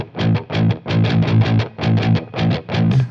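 Electric guitar played through a Bogner Überschall amp model on a Fractal Audio FM3, master pushed past noon for power-amp distortion, chugs out heavily distorted, rhythmic palm-muted chords in short repeated bursts, loud and alone.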